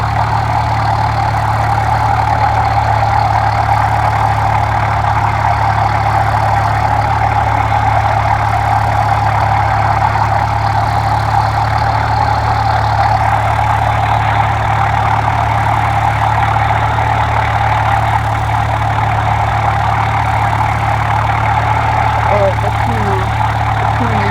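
A small airplane's engine drones evenly inside the cockpit, throttled back on landing approach to Fairbanks International, a constant loud hum with faint voices beneath it.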